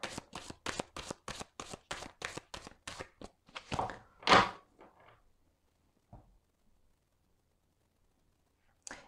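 A deck of oracle cards riffles rapidly in a dense run of crisp slaps, ending with one louder burst, then near silence broken by a few faint taps.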